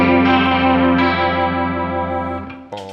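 An electric guitar chord rings out through an Arion SCH1 chorus pedal, a sustained shimmering, wavering tone that slowly decays before a new note is struck at the end, heard alone.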